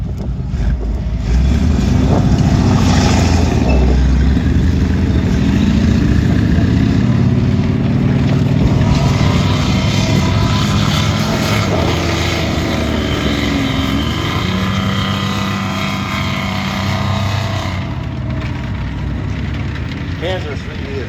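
Stuart M3 and Panzer III tanks at a tank museum battle display driving into firing positions, a loud continuous engine roar and rumble from close by throughout.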